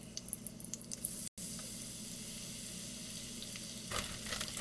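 Cornmeal-coated yellow squash fries in a preheated skillet, a faint, even sizzle filling the clip, interrupted by a brief dropout and followed by a few soft stirring sounds near the end.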